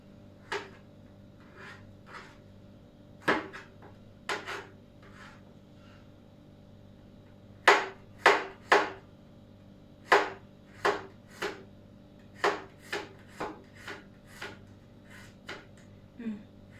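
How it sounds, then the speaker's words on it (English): Garlic being chopped with a knife on a cutting board: sharp, close knife taps in uneven bursts, some quick runs of three or four strokes, separated by brief pauses over a low steady background hum. "garlic. So we're going to chop it."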